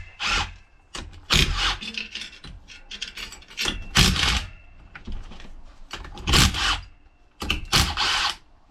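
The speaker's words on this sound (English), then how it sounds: "Gonna remove the 5 oil pump bolts." Bolts being backed out of a Turbo 350 transmission oil pump with a power tool, several loud close bursts of whirring and ratcheting separated by short pauses and small metallic clinks.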